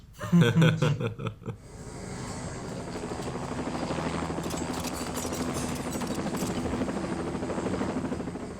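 A helicopter's rotor in Superman: The Movie thrums steadily and fairly close, a continuous chopping drone after a brief burst of other noise at the start.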